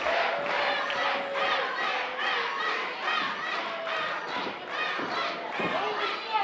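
A wrestling crowd roars for Dak Draper at an NWL event, a dense, steady wall of cheering and shouting that holds for the whole stretch, with individual yells rising out of the mass.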